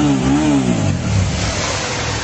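A Suzuki SV650S twin-cylinder motorcycle engine revs up loud and close, the pitch rising and then settling into a rough, throbbing drone.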